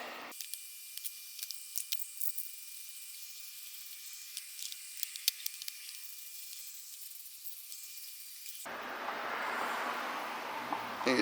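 A faint, sustained aerosol spray hiss putting a first coat of paint over a wiring connection for aftermarket LED lights, thin and airy with small ticks, shifting to a broader rushing hiss near the end.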